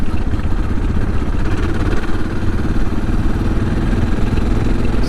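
A 2023 Suzuki DR650 motorcycle rides off toward the dirt, its single engine making a loud, continuous, close-up throbbing drone with rapid, even pulsing and no pauses.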